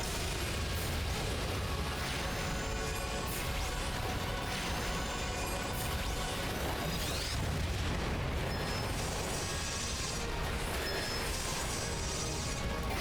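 Boss attack explosions in the video game Final Fantasy XIV: a dense, continuous roar of booming blasts and crackling effects runs loud and unbroken, with no talking.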